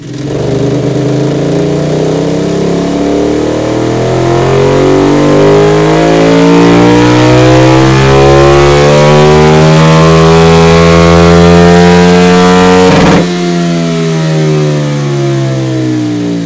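A loud KTM 1290 motorcycle engine revs hard on a dynamometer, climbing steadily in pitch for about thirteen seconds, then cuts abruptly and drops to a lower, rougher idle.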